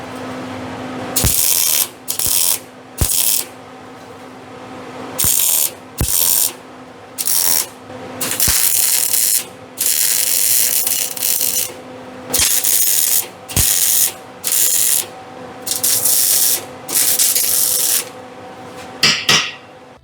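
A plasma cutter cuts metal for a homemade car exhaust, giving loud, close hissing bursts that start and stop repeatedly in short, irregular runs.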